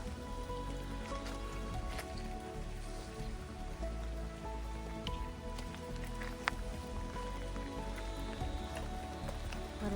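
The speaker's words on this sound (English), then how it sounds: "You don't feel all the raindrops, guys? Because the canopy above is kind of acting like an umbrella." Steady rain patters on the thick canopy of the Hoh Rainforest, a dense, even hiss with scattered close drips and taps running throughout at moderate level, no voices.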